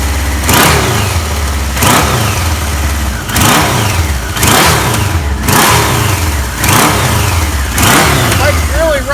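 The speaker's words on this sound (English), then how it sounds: "Bike really runs nice." A red 1977 Kawasaki KZ1000 motorcycle engine runs loud and close, blipped in repeated revving bursts roughly every second between steady idle, with no talk over it.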